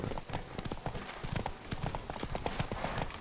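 Roach the horse's hooves clip-clopping in The Witcher 3, a quick steady run of close, crisp hoof strikes on hard ground, loud and alone.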